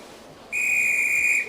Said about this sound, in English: Just then the guard blew his whistle, and Edward had to bring Henry to the Steamw